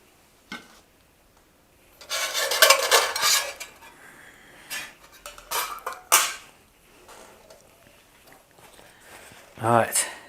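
Metal camping gear being handled: a Pathfinder stove and a 1.1 litre stainless steel canteen clink, scrape and rattle in irregular bursts, with quiet pauses in between.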